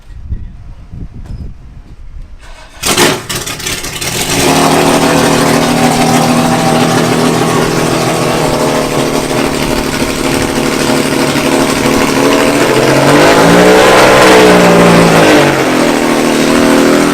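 An old-school Lotus Elan at a Thruxton motorsport event cranks and fires up after a quiet moment, then holds a loud, close, steady engine note with a brief rising rev near the end.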